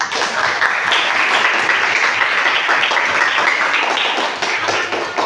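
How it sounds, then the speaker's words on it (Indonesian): Dense, steady applause from a classroom of students fills the space, loud and sustained for several seconds with a brief dip near the end. "tepuk tangan untuk kita semuanya"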